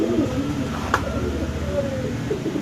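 Pigeons coo steadily at a busy pigeon market, low throaty calls layered close by over a murmuring crowd background, with a brief sharp click near the middle.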